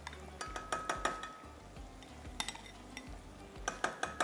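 A spoon stirs a nihari mixture in a metal pot, giving sharp clinks and scrapes at an irregular pace, close and fairly quiet, with no talking.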